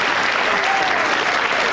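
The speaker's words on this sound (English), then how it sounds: "getting a well-earned applause from the crowd" A crowd at a 1980 strongman competition in a London studio applauds steadily, thick continuous clapping filling the whole short stretch.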